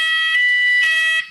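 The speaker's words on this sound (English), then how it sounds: "excuse me, fire alarm." A building fire alarm blares loud and steady, a harsh electronic tone held for over a second before cutting off abruptly, close and alone with no voices.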